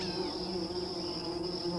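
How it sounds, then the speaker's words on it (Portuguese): Stingless bees buzzing at a hive entrance, with a steady, faint, close-up hum that holds an even pitch and carries no voices. "Na entrada, um guarda controla cada abelha que entra na colmeia."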